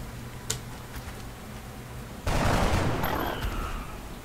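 Gunfire erupts in XCOM: Enemy Within: after a faint tick and a short quiet, a loud, dense burst of shooting hits and rolls on for about two seconds, with a thin electronic tone trailing over its tail.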